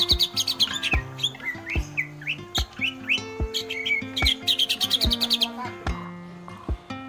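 A green leafbird (cucak hijau) sings a lively run of chirps, rapid trills and repeated whistled phrases, close and clear, over a backdrop of low, evenly spaced plucked tones.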